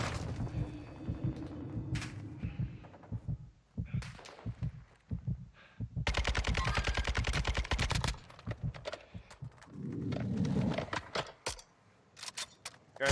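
Rapid automatic gunfire in Call of Duty Warzone 2 DMZ comes in several dense bursts, the longest lasting a couple of seconds, mixed with sharp scattered shots and clicks and no talking.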